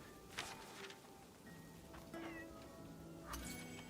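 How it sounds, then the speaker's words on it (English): A cat in a fantasy adventure video game meows several times in short, separate cries. The calls sound faint and slightly distant against quiet ambient game sound. "I heard a cat."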